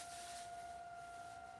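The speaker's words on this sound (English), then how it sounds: "So you hear the sirens go off. That's That means it's 11 o'clock in Indianapolis." The 11 o'clock civil defense siren in Indianapolis wails steadily in the distance, a faint sustained tone with no talk over it.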